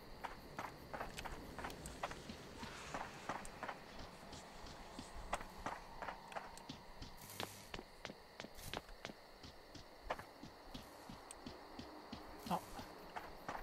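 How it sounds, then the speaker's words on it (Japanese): Footsteps in the horror game Horrorfield, a steady run of soft, quick thuds and light clicks off to the left, fairly faint and continuous over a low ambient background. "なんか左側でも足音聞こえるんですけど"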